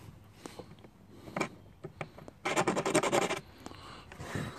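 Plastic scraping on a GY6 scooter body panel, plastic tool rubbing over plastic: scattered short scratches, then a denser burst of rapid rasping strokes in the middle, close and fairly quiet, with no talk.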